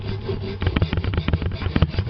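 Scissors sharpened by hand, a quick series of close, loud rasping strokes scraping the blade edge in a steady back-and-forth rhythm after a brief quieter start.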